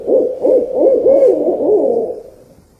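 An owl hoots in a quick series of wavering calls, loud and close, with no other sounds around it.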